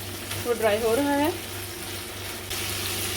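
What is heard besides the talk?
chicken frying in a pan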